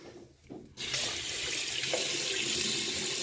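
A sink faucet turns on abruptly and runs in a steady, full, close rush of water for someone washing their face at a bathroom sink, with no talk.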